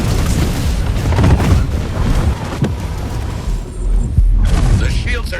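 Loud rocket explosions in the Tempest Rising strategy game, heavy rumbling booms with wind-like roar over a steady battle din, plus a couple of sharper blasts.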